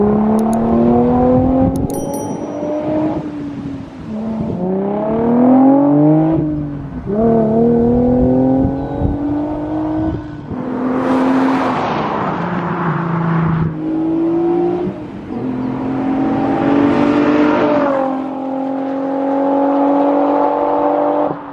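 Nissan 350Z whose muffler is replaced by two straight metal pipes, revved repeatedly, each loud raspy rise climbing in pitch and dropping back to idle, close to the exhaust with no talk.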